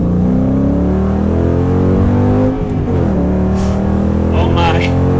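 A nitrous-equipped Ford Mustang accelerates hard, its engine roaring loud and close in a rising, sustained pull with a brief dip midway as a gear changes, and a voice briefly exclaiming near the end.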